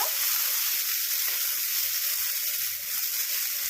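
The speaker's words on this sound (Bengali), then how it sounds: "টমেটো কুচিগুলোকেও ভালো করে নাড়াচাড়া করে নেব।" Chopped tomato stirred into lightly sautéed onions in a pan for green banana curry, a dense, steady sizzle close by with faint soft stirring bumps and no speech.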